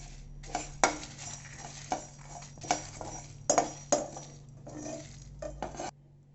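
Dried chillies and whole spices dry-roasting in a pan for a freshly ground paneer curry masala, heard as a series of sharp metallic scrapes and clinks of a ladle against the pan, irregularly spaced over a low steady hum.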